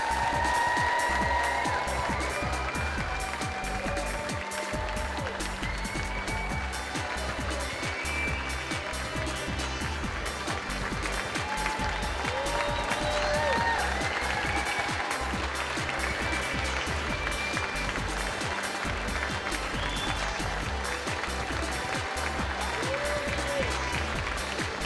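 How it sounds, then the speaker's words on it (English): Roadside crowd cheering and applauding as the Pedal4Hope charity cycling team rides past during a cancer fundraising ride in Peterborough, steady continuous noise over background chatter and traffic rumble throughout. "Big cheer for the Pedal4Hope team as they come through."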